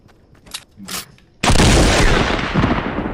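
A few faint clicks and rustles, then a sudden loud blast of gunfire with a long rumbling, crackling tail, sounding like video game combat.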